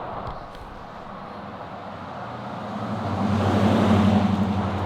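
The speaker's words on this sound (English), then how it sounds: "let's wait for this car to go past" A Dodge Ram driving past on a road, its engine and tyre noise swelling from a faint approach to a louder rumble near the end as it nears.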